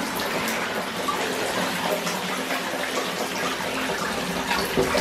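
Water sloshing and splashing in a bathtub as a small boy plays in the bath, a continuous watery wash with scattered splashes, close by and with no voices.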